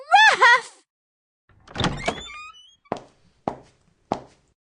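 A brief wailing voice is followed by a door creaking open, then three evenly spaced thuds like footsteps in a quiet room.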